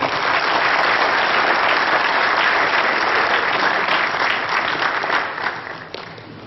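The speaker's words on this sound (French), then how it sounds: "Sous vos applaudissements, s'il vous plaît" Audience applause at a petanque masters award ceremony in Madagascar, steady dense clapping from a gathered crowd, loud and sustained before thinning out near the end.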